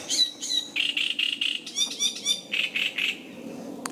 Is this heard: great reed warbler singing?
yes